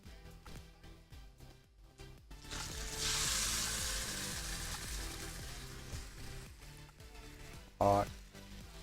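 Hot oil tadka tempering sizzles loudly over moong dal, a sustained bright frying hiss that swells midway and holds steady, with a brief louder clatter near the end.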